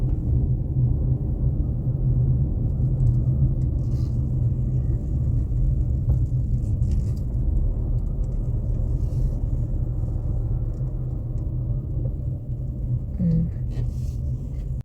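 Steady low road rumble and engine drone inside a moving car in Luxembourg, continuous and even throughout, with no clear voices.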